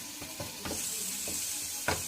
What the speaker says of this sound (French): Vous ajoutez la sauce tomate et vous touillez.